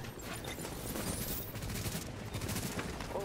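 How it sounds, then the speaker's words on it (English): Gunfire crackles in The Division during a group manhunt, a dense run of fairly faint shots and bursts rattling continuously under a busy combat background. "Me and this guy are just shooting him up."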